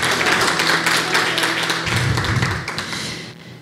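Church congregation at Iglesia Viva applauding, a dense, continuous patter of many hands clapping that tapers off toward the end.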